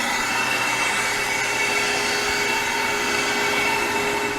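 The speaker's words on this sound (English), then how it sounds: "Open the drain valve." A freeze dryer's drain valve opened on a batch of mini cookies, releasing a loud, steady rushing hiss of air that holds constant throughout at close range.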